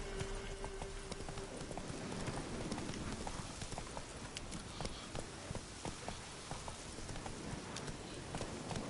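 Horse hooves trotting in The Witcher 3 on PS4, a steady stream of clip-clop footfalls amid continuous busy game ambience and music, with no pauses across the stretch.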